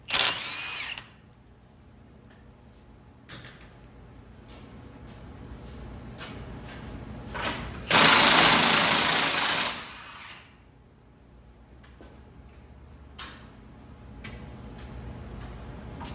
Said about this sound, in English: we're going to remove our 32 millimeter axle nuts